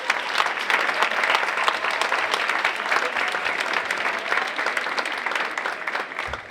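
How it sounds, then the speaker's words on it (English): An audience at a high school senior awards and scholarships evening applauds the standing school staff, a full, even round of clapping that holds steady and moderately loud for several seconds. "we can give you guys a round of applause"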